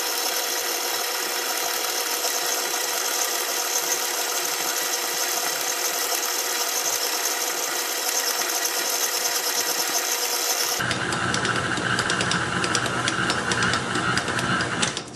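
A stand mixer kneads enriched dough with butter at its second speed, a steady loud motor whir that runs continuously, its tone shifting partway through as the load changes.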